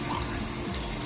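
Tap water runs hard into a kitchen sink to rinse a clogged drain treated with Drano foamer, a close, steady rushing gush throughout.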